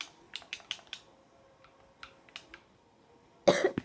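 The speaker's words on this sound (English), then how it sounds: "That sounded like fake coughs." A series of short, sharp cough-like bursts during a Rocket League match, spaced unevenly over a few seconds, then a louder, denser cluster near the end, with game sounds faint underneath.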